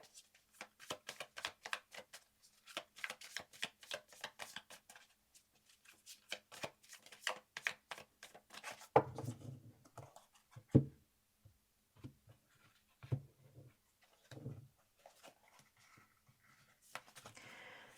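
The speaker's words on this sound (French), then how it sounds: "Je vais tirer 3 cartes." Tarot cards are shuffled and drawn. A crisp, rapid flutter of riffling comes in close clusters at first, then softer slaps and scattered card handling follow, all fairly quiet with no talk.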